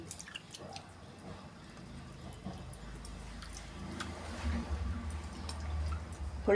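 Tamarind water poured into a simmering coconut-based fish curry, a soft splashing drip that builds slowly and grows louder toward the end under a low bubbling from the pot.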